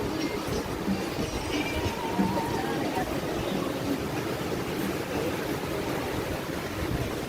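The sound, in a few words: ocean waves coming in at high tide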